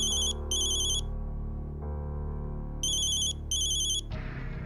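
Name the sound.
phone ringing with an incoming call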